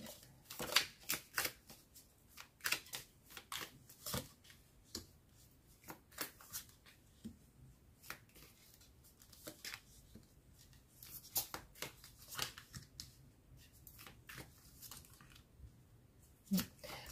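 Tarot cards dropped during a reading are gathered and shuffled by hand. Quiet, close riffles, taps and slaps follow in an irregular series of short bursts over roughly seventeen seconds.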